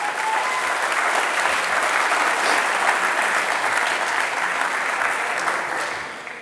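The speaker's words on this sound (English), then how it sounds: "Give yourselves a round of applause for making it here." An assembly audience at a high school Year 12 graduation in a hall gives sustained, dense applause for the graduating class. The clapping stays loud and steady, then fades slightly at the very end.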